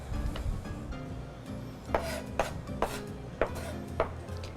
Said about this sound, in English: rock our knives back and forth while lifting and lowering it to get to a mince